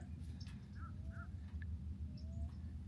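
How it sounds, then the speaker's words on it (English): Several crows caw in the distance, their calls spaced apart over a constant low outdoor rumble, on a hot, bright day at Lake Toho. "initially I can hear all kinds of wildlife, all kinds of birds right away"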